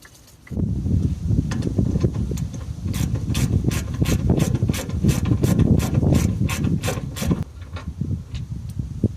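A hand ratchet loosens the mounting bolts of a brake pressure regulator on a Fiat Ducato, a rapid, loud run of close metallic clicks lasting several seconds before stopping.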